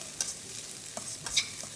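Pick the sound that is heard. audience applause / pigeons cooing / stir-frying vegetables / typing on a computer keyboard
stir-frying vegetables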